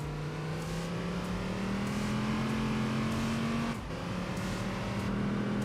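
A racing car's engine and exhaust in the Enthusia Professional Racing video game drone steadily at high revs, pitch slowly rising, with a brief dip as the car shifts before climbing again.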